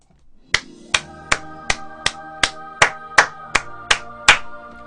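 Twelve crisp hand claps by a single person, close and loud, spaced roughly evenly in a steady rhythm with a slight ringing room tail after each, no talk.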